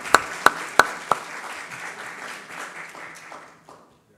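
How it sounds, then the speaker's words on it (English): Audience applause at an IIT Kanpur Class of 1982 reunion ceremony, opening with a few sharp claps that swell into steady clapping across the hall before fading out. "A round of applause."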